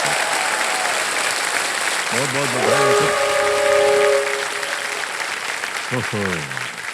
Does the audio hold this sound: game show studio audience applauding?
yes